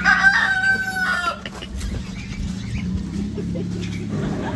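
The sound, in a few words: rooster crowing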